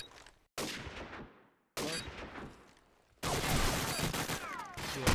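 Call of Duty 4 gunfire in three sharp loud bursts, each decaying before the next, the last a sustained volley of rapid shots, no audible talking.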